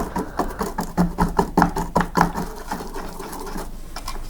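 The round grinder wheel of a Breville coffee maker is turned by hand, giving a quick run of rhythmic clicking ticks up close that slows and fades into a softer whir.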